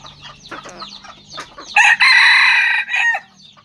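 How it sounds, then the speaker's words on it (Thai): A young fighting rooster crows loudly in one long sustained call, preceded by hens clucking and chattering nearby, with a shorter cluck after the crow. "วันนี้พามาชมไก่นะครับ"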